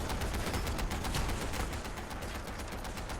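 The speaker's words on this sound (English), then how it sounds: "Let's take out these noisy turrets." Rapid gunfire from turrets in the video game Fallout 4, a dense continuous rattle of automatic shots sounding fairly close, with no talking over it.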